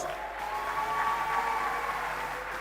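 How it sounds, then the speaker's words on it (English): Audience applause for students at a technical high school graduation ceremony, a dense, steady wash of clapping from a large crowd that carries on evenly throughout. "give the students a round of applause"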